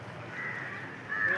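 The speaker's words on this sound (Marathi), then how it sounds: "कावळे सगळे." Crows cawing at a national park in Pune, a hoarse call audible mid-clip and again louder near the end over steady outdoor background noise.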